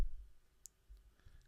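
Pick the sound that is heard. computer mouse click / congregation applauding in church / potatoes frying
computer mouse click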